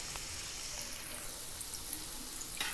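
Continuous crackling sizzle of honey candy (thaen mittai) frying in hot oil, close and steady, with faint bubbling throughout.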